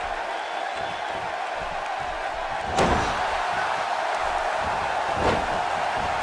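A heavy wrestling slam lands in WWE 2K18 at a SummerSlam tag match in Brooklyn as one sharp impact, followed by a softer thud, over a steady roaring arena crowd.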